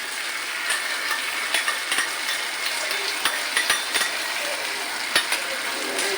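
Tomato sauce, chili sauce and soy sauce being stirred together for chili chicken, a soft continuous wet swishing with sharp spoon clinks against the container, close and alone.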